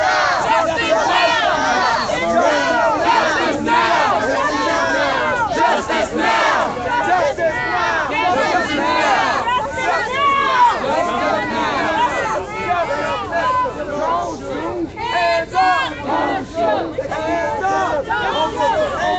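A loud crowd of protesters on a march in Ferguson chants and shouts continuously in dense, overlapping voices, close and energetic, with rhythmic surges of chanting throughout.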